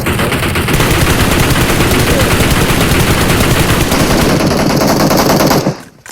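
Continuous loud automatic gunfire rattles in a PUBG match on the Livik map, dense rapid shots filling the whole stretch before cutting off abruptly near the end.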